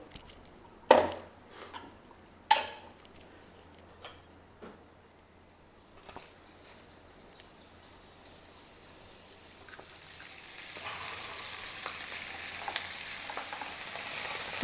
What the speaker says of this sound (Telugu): మళ్ళీ ఒక స్పూన్ ఆయిల్ వేసేసి ఇప్పుడు దీంట్లో మెంతి కూర వేపుకోవాలి